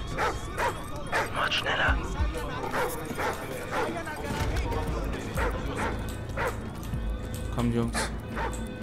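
A dog in the video game Call of Duty: Ghosts barks and whimpers in a steady series of yips beneath game noise, with voices talking over it throughout.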